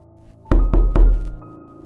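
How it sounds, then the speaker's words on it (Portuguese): Three heavy, dry knocks on a farmhouse front door, evenly spaced and loud, each with a booming low thud and short wooden resonance, alone in silence. "Três batidas secas e pesadas na porta principal da fazenda."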